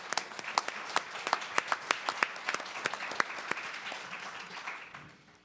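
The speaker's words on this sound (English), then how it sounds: "I want to offer up a congratulatory clap and applause for the great work they've done" Audience applause at an international panel event on environmental law, with distinct individual claps standing out over a steady patter for several seconds before it thins and fades.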